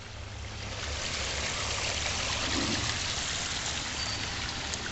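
Pumped water spills over a backyard pond waterfall, a steady close splashing and rushing flow with no talk over it.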